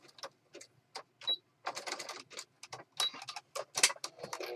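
A sewing machine stitches a journal page in quick, close bursts of clicking and whirring, separated by short pauses.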